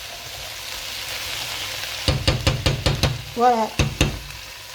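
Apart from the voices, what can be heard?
butter sizzling in pan for beef bourguignon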